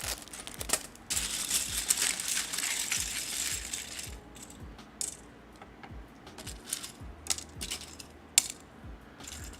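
Plastic Lego pieces being handled up close, a bright continuous rattle of small bricks tumbling for several seconds, then sparser individual clicks and clacks of pieces being picked up and set down.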